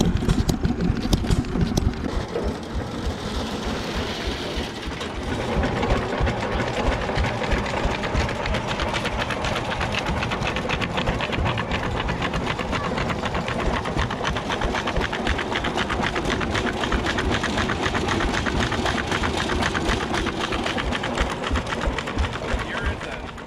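A two-horsepower Taylor vacuum engine, once used for milking cows, chugs steadily and rapidly for the whole stretch at a heritage festival, its mechanical knocking mixed with outdoor background noise and faint voices.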